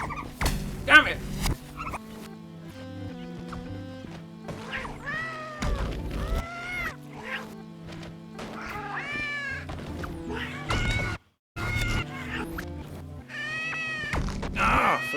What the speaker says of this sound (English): these killer bunnies, they make cat noises